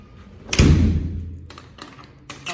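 A door at an Atlanta art studio and gallery is opened and closed: one loud, close thump, then softer rattling knocks and clicks as it settles, with no talking.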